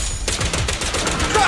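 Loud rapid gunfire bursts out in the Zenless Zone Zero action game as a character clears away ethereals, dense close shots layered with combat effects.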